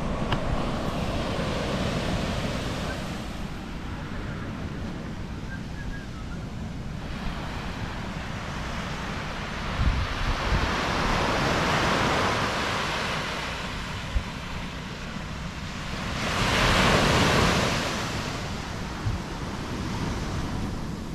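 Ocean waves washing onto a secluded beach near Puerto Vallarta, broad surges of surf rising and falling with the loudest swells near the middle and end, over steady wind noise on the microphone.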